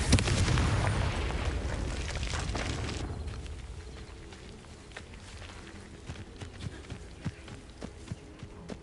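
Fiery blast from the Confringo spell in Hogwarts Legacy, a loud booming burst at the start that rumbles and fades over a few seconds into quieter ambience with small pops.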